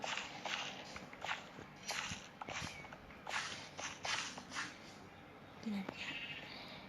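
Sheep in the video game Minecraft bleat several times in short, repeated calls, mixed with footstep sounds and game noise, while people talk over the top.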